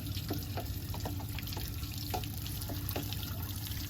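Water runs steadily through a strainer being flushed clean, a constant hiss of flow with small intermittent splashes and drips close by, no talking.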